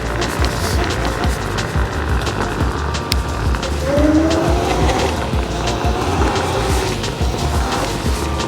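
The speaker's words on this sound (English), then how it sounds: "Skidding the tires on the rear when I stop and skidding them in the front when I accelerate." An electric scooter, the Mantis Pro SE, skids its tires on pavement, a rough continuous scrubbing with a rising squeal near the middle, heard up close amid steady road and wind noise.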